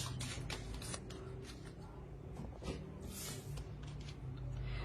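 Oracle cards being shuffled and drawn by hand, close up, heard as a run of quick papery riffles and flicks across the whole stretch.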